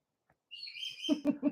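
Pet parrots at home call out in a burst of shrill, high chirps and squawks, followed by three short, harsher screeches close by, with no talk over them.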